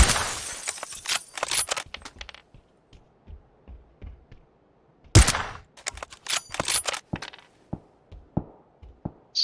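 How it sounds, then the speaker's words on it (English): PUBG gunfire cracks out in sharp, irregular bursts, some loud and close, others thinner and more distant, separated by brief quiet gaps. "They're getting shot at."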